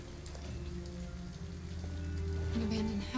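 Steady rain hissing on surfaces in the video game Detroit: Become Human, a constant soft patter under low droning background tones, with a faint voice briefly heard.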